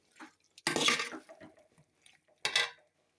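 Fish pickle gravy stirred in a pan, with a few wet scraping and sloshing bursts of spoon against metal, a long one followed by quieter clinks and a second short stir.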